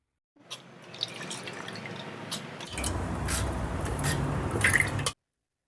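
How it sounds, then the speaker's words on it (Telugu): Water pours steadily into a mixer grinder jar of soaked lentils close by, the tone deepening as it fills, with a few drips and splashes near the end. "ఆ కప్పుతో అరకప్పు వాటర్ పోసుకుందాం"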